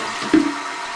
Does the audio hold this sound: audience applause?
no